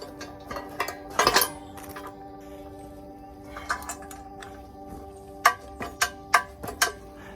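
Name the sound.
torque wrench tightening fifth wheel hitch bolts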